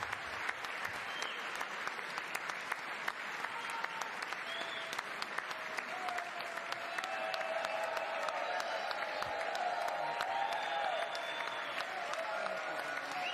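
Audience applause in a congressional hearing room, a long, even wash of many hands clapping that holds steady and swells slightly toward the end, with no voices above it.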